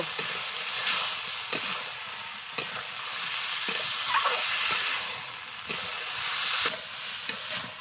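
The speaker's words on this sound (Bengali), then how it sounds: "মিষ্টি কুমড়া কষানো হয়ে গেছে" Pumpkin and potato sauté in oily spice masala in a pan, giving a loud continuous hiss and sizzle broken by regular scraping stirs and knocks.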